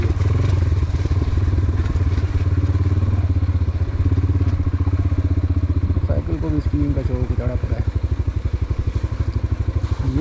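Motorcycle descending a steep mountain slope with the front brake applied, a loud close engine with a rough pulsing rattle and clatter throughout, while someone talks over it.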